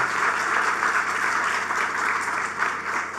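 An outdoor audience at a program launch in a park claps in a thick, continuous round of applause, loud and even from start to finish with no voices on top.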